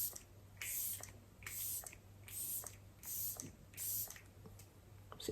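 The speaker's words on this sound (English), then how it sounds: "it's got a spray bottle, like a hairspray bottle almost. And it says to do one spray sort of down the centre of the face" Setting spray misted onto the face from a hairspray-style spray bottle, several short hissing bursts at close range that repeat in an uneven rhythm, with quiet gaps between them and no talking.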